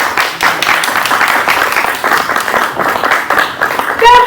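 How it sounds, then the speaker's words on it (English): A church congregation at a Sunday service claps in scattered, weak applause, a steady patter of hands filling the room for several seconds before fading, with a brief tonal sound at the very end. "That's such a weak clap"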